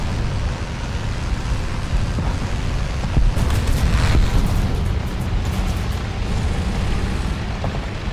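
A Pz.35t tank in War Thunder rumbles along and fires its cannon, a loud burst standing out near the middle above a constant low engine and track roar.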